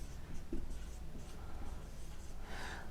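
Pen scratching across paper while an English sentence is written by hand during a passive-voice lesson, a soft continuous scrawl with brief strokes, close and moderately quiet, with no talk.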